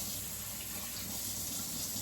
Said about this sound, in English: even though I'm washing it with hot water